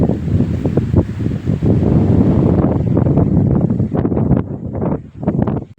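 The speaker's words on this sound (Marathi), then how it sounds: "हे वारा पण भरपूर आहे" Strong, steady wind buffets the microphone on the climb up Asherigad hill fort, a loud broadband roar with gusty surges that eases briefly near the end.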